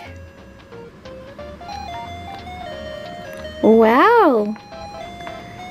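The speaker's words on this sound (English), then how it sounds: "This ringtone is fun!" A Hello Kitty toy cell phone plays an electronic ringtone melody with steady, stepping notes, then a louder warbling musical burst near the end, while a child gives a brief exclamation.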